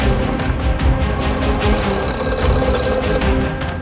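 A telephone rings repeatedly and goes unanswered, its bright trilling bell pulsing in a steady rhythm over a low background bed, fairly loud and close.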